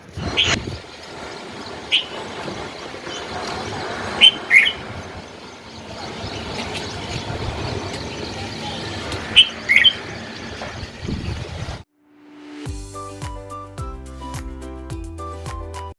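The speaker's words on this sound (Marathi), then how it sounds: "अचानक एवढ्यात एक पक्षी बुलबुल नावाचा आला आणि तो माझ्या गच्चीवरच्या झोक्यावर बसलेला आहे" A bulbul perched on a homemade swing on a rooftop terrace gives a few sharp chirps at intervals over outdoor background noise, then the recording cuts to a stretch of music.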